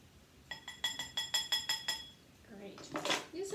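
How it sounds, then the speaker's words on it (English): A fork stirring a muffin batter in a bowl, making a quick run of about nine bright, ringing clinks against the bowl, followed by softer scraping and clatter with a voice speaking over it. "Use a fork and give that a stir"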